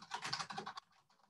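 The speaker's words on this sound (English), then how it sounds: "You can just start typing it" Quick typing on a computer keyboard, a fast burst of close key clicks that stops abruptly partway through, followed by quiet room tone.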